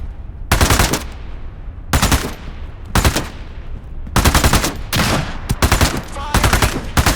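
Machine-gun fire in the video game Into the Radius 2 comes in loud, close bursts of rapid shots, several separate volleys with short gaps, the last ones longer.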